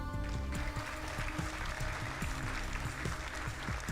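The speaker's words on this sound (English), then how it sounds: "I simply stand on the balcony and let the throngs cheer at me" A throng cheering an emperor on a balcony in the sci-fi strategy game Endless Space 2, a steady dense roar of cheers and applause with rhythmic low thuds underneath.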